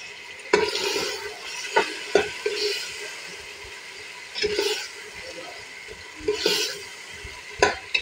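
Potatoes go into a pan of frying ginger and mince and are stirred, giving a soft sizzle under several scraping spoon strokes and brief clatters, close by and with no talk.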